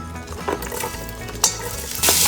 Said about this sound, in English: So we're going to add that to our pan